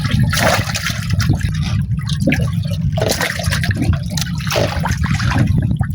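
Water gushing and splashing into a live squid tank aboard a small fishing boat, a loud continuous churning pour with bubbling surges, close to the microphone and free of talk.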